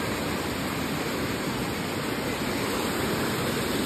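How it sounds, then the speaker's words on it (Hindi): A forest waterfall near Ranchi, Jharkhand, roars as a steady, loud, unbroken rush of falling water, close by and alone, with no voices over it. "यहाँ से पानी पूरा गिरता है इधर नीचे"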